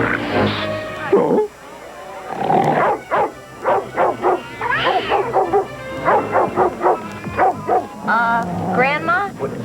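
In a Scooby-Doo film scene, a disguised cartoon Great Dane yelps, barks and whimpers in a voiced imitation of a dog. The bursts are excited and close, mixed with other characters talking.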